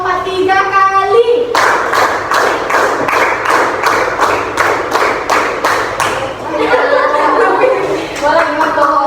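In an Indonesian classroom, students clap a counted pattern, a rapid, evenly spaced string of about a dozen sharp, close claps in repeated sets, with voices talking before and after.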